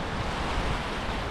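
Ocean waves wash onto a sandy beach in a continuous, fairly faint broadband rush with a soft low rumble and no voices.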